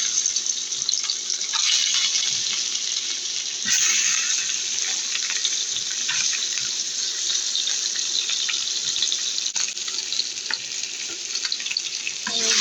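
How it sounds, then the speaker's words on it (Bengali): Fish frying in hot oil in a wok, a loud dense crackling sizzle that runs continuously, with a few brief bumps from the pan. "এখন আমি মাছগুলো ভেজে নিব।"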